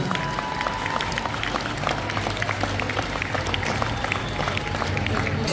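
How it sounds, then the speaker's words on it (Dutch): Audience at a Friesian stallion show applauding steadily, a dense, continuous wash of clapping mixed with a low background rumble, with a voice audible underneath. "ik vind een applaus"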